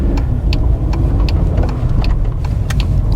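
A car engine hums steadily while driving, a low continuous drone with small rises in pitch and faint clicks over it.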